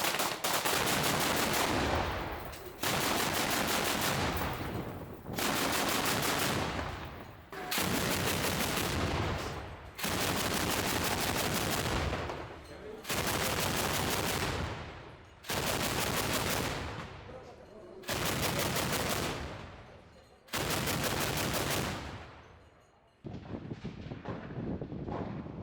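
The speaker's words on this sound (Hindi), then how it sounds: "यहां किस तरीके से गोलीबारी हुई है, जरा यहां की तस्वीरें देखिए" Heavy gunfire and shelling in war-torn Mariupol, Ukraine: long, loud, dense bursts of automatic fire repeat roughly every two to three seconds, each cut off abruptly, with wind buffeting the microphone and no talk.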